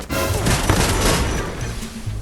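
Video game combat with a Plasma-X gun: a dense, loud barrage of gunfire mixed with a grenade blast, continuous booming and crackling throughout with no pauses.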